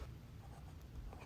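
Pen writing the date on a letter: soft, continuous scratchy scribbling close up, faint and brief with no talk.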